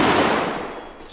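A single loud .50 caliber rifle shot fired at close range, a broad blast that decays over about a second with a long rolling tail and no talk.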